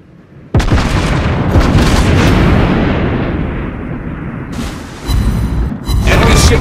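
Naval guns in the World of Warships video game fire and shells strike an enemy ship, a sudden loud boom followed by sustained rumbling blasts and a second burst near the end, with no talk.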